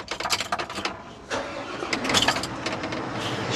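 A Liebherr machine's engine cranks in rapid bursts, then catches and settles into a steady, moderately loud idle.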